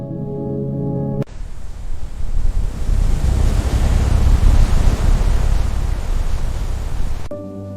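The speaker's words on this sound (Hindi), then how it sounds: "देखो, बारिश शुरू हो गई।" Rain begins falling on an open farm field, a dense steady hiss that sweeps in abruptly and stays loud and even for several seconds before cutting off, with no voices.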